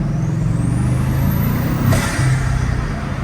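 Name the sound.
Bugatti Chiron engine and turbo spooling down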